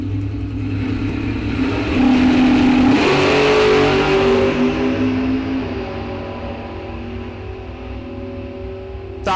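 A drag racing car, one a Mustang, launches at an ET bracket race at Rock Falls Raceway, its engine rising to a loud revving roar that swells, then fades into the distance.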